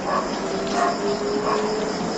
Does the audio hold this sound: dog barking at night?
yes